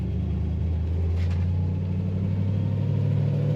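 A 1962 Chevrolet Impala two-door hardtop with a manual clutch drives toward a roundabout and shifts into second gear. A steady, low engine and road rumble is heard from inside the car, with no voices.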